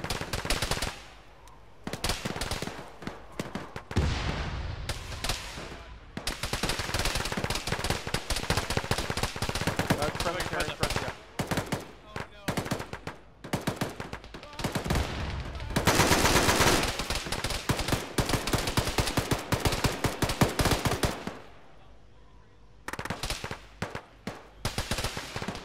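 Sustained bursts of rifle and machine-gun fire crackle through a squad battle in Arma with ShackTac, loud and near, dense volleys broken by brief lulls, with occasional team voice chatter underneath.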